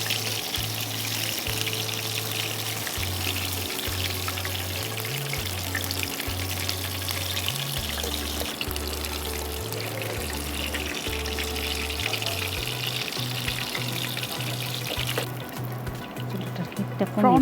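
Breaded prawns frying in hot oil give a steady, close crackling sizzle throughout, set under a pulsing, low background music track.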